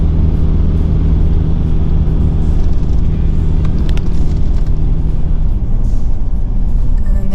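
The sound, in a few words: vehicle driving past Womble Bank Station homestead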